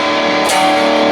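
A single distorted electric guitar chord rings out briefly, thick and buzzing.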